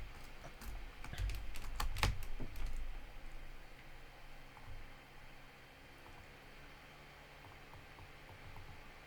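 Computer keyboard typing comes in quick clustered clicks for about three seconds, then drops to a few scattered keystrokes. Background hiss sits underneath, and no voice is heard.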